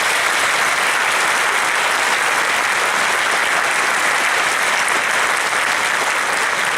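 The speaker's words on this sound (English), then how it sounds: "give a quick round of applause to the law enforcement men and women" Loud, dense applause from a political forum audience honoring law enforcement officers, a continuous roar of many hands clapping at an even level throughout, with no voices rising above it.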